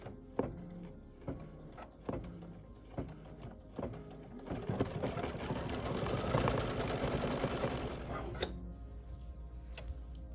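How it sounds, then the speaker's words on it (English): A home sewing machine stitching down a zipper on a fabric pouch, starting with short separate bursts and then settling into a steady, close, continuous whirring run, with no talking. "we're just gonna raise our presser foot just a little bit. And then we're gonna stitch it down."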